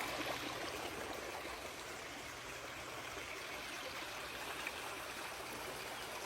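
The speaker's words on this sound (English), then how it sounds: "The water's coming in." Water from an irrigation ditch pours steadily into a pond, a continuous soft rushing and trickling flow with no voices.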